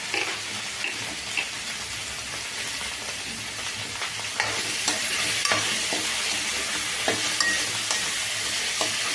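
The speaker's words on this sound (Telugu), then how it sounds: "బెండకాయని ఇందులో వేసేసుకుందాం." Okra tipped into cooked tomatoes sizzles and fries in a pan, with steady scraping stirs over a continuous hiss that grows louder partway through; no talking.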